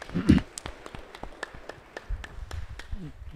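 A church congregation at a Kikuyu service claps for its leadership team, a scattered run of sharp hand claps in a reverberant room with a few voices underneath.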